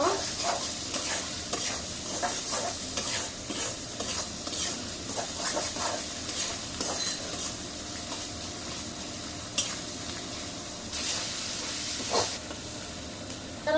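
Onion and green chilies sizzling in a pan for a dried-fish curry, with a spoon scraping and stirring through the hot oil in repeated strokes under a steady frying hiss.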